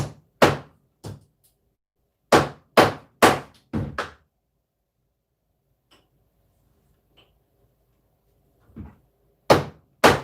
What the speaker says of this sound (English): I do have a hammer. I'm trying to unbend it